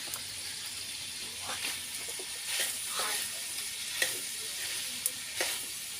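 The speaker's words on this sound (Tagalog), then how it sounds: "Luto tayo ng atay balunan guys." Chicken liver and gizzards fry in a pan over a wood fire, a steady low sizzle broken by a few sharp pops and stirring scrapes, while a person talks nearby.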